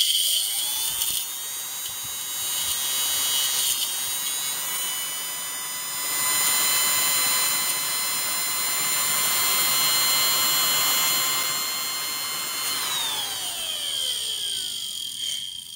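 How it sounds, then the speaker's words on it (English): A Delta high performance server fan spins up with a piercing, high-pitched whine and grinding hum that holds steady and swells, then winds down in a falling tone near the end. "You could hear it grind its the particles out of there so it could get spinning."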